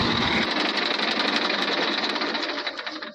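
A farm tractor's engine runs loud and close in a steady, rattling chug that eases slightly near the end as it is shut off with the key.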